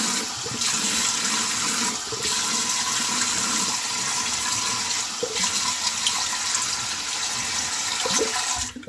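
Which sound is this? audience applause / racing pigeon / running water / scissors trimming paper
running water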